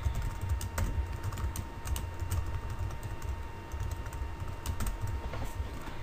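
Rapid typing on a computer keyboard, a steady patter of light key clicks with occasional louder strokes, close and continuous for several seconds with no voices.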